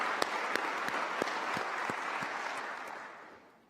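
Audience applause for teaching awardees at a Cal Poly convocation: a broad crowd clapping steadily, with a few sharp individual claps standing out, then fading away toward the end.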